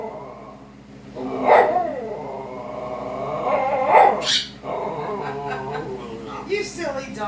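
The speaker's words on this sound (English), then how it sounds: "You silly dog." A dog barks and growls in a few short bursts indoors, close and fairly loud, with a person talking in between.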